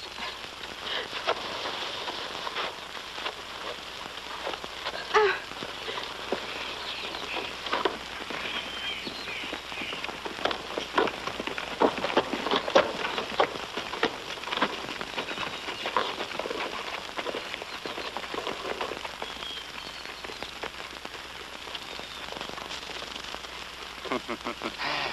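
Rain falls steadily on surfaces, a dense hissing patter with scattered louder drops, holding at a moderate level throughout.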